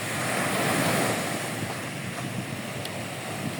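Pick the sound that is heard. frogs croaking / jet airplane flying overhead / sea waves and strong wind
sea waves and strong wind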